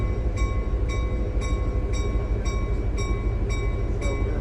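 Lehigh Gorge Scenic Railway passenger train rolling back toward Jim Thorpe, heard from the car just behind the locomotive: a steady loud rumble with sustained tonal hum and regular rhythmic clicks from the wheels, no talk.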